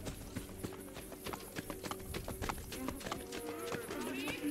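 A horse in Assassin's Creed Brotherhood gallops away with a quick, rhythmic clip-clop of hooves, fairly close and steady throughout, with faint game sounds underneath.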